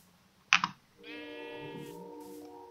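A short click, then a sheep bleats in the video game Minecraft, a clear nasal tonal bleat lasting about a second, near and isolated with no talking.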